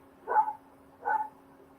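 A half-beagle dog barks twice outdoors, two evenly spaced, muffled woofs at moderate distance over a faint steady hum indoors.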